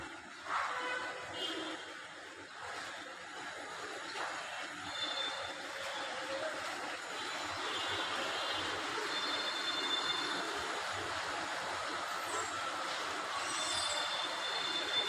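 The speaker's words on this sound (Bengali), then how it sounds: "টিনের চালে বৃষ্টির পানিটা পড়লে খুব ভালো লাগে শব্দটা শুনতে।" Heavy rain pours onto a tin roof in a steady, dense roar of patter, close and continuous throughout, with no clear talk.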